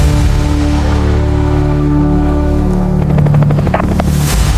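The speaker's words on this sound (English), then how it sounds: "The transport helicopter is on its way." A transport helicopter approaching a woodland clearing in a combat scenario: a loud, steady low rotor drone fills the whole stretch, with rhythmic blade chop growing more pronounced toward the end.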